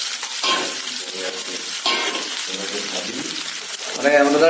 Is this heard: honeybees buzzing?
no